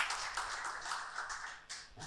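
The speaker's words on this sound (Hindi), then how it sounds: "आप सब खुश हैं तो जोरदार तालियां दे प्रभु यीशु मसीह के।" A church congregation at a Sunday Hindi service claps together, a steady, dense patter of many hands held at an even level for about two seconds with no voices over it.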